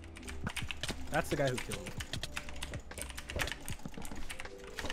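Rapid computer keyboard typing and mouse clicks rattle steadily during a Minecraft SkyWars match, with a person talking briefly over the clatter.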